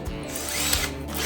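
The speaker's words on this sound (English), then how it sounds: "drill a hole for the light switch. Do that now. We'll go with a 3/4 inch." Power drill boring a 3/4 inch hole for a light switch in a garage lighting build, a loud close high-pitched motor whine that spins up and grinds steadily for a brief moment, heard alone.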